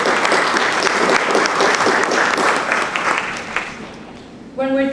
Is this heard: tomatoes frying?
no